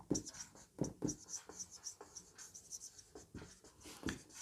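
Pen or chalk strokes writing out a maths solution, a run of short scratchy marks in quick irregular rhythm, close and clear, with a voice talking over part of it.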